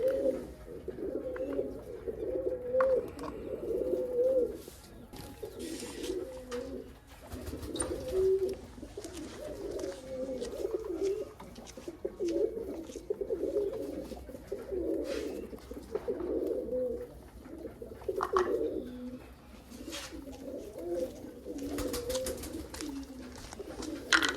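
Flock of pigeons cooing steadily while they eat peanuts on a cloudy day, a dense, continuous overlapping murmur of coos close by, with scattered soft pecks and flutters and no talking.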